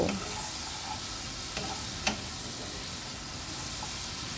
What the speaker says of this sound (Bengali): তা এইভাবে জল দিয়ে মশলাটাকে খুব ভালোভাবে কষিয়ে নেব